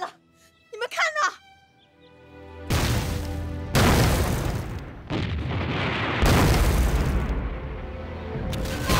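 Bombs explode in a village as a war-film effect: a brief voice at the start, then a series of deep, loud, close booms that roll on continuously for several seconds.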